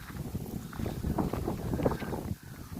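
Strong wind buffets the microphone across flat, open mountain grassland, a loud, continuous rumbling gust with no voices.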